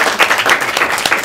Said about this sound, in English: Please have another round of applause for that impeccable timing